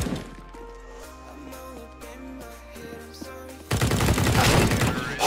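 Rapid bursts of CS:GO gunfire crackle over a music-like backdrop, swelling into a loud, dense barrage of shots and impacts near the end.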